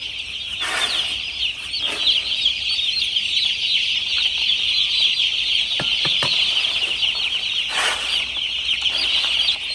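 Young chicks in a poultry pen give constant dense high peeping and clucking calls, a busy flock chorus near the listener with occasional wing flaps, no talking.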